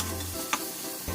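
Garlic stir-frying with shallots in a pan, a brief bright sizzle with a quick scrape of stirring in the middle and a low rumble of the burner at each end.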